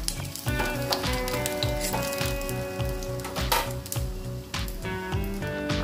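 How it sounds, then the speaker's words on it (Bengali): Gram-flour fritter curry cooking in a small amount of oil, a continuous sizzle under a repeating rhythmic pattern of tonal sounds, with scattered stirring noises. "এখানে বেসন বড়ার তরকারি করছি। খুব অল্প তেলে করতে হচ্ছে আমাকে।"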